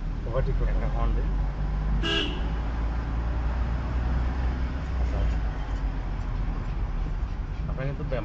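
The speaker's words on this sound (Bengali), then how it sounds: "ওভারটেক করতে একটা হর্ন দিন।" A car horn gives one short honk to overtake during a driving lesson in Sylhet, ringing out clearly over a steady low engine hum and road noise, with faint voices in the car.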